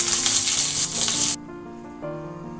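Mustard seeds splutter in hot oil for a Bengali sour fish curry with bay leaf and dried chilli, a loud crackling sizzle that stops abruptly and leaves a low hum.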